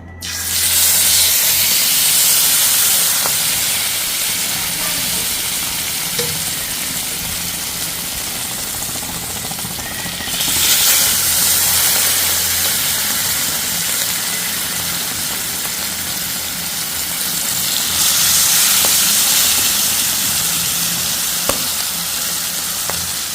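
Food fries in hot oil with a loud, continuous hissing sizzle that swells twice into brighter bursts of crackle, close to the microphone and with no one speaking.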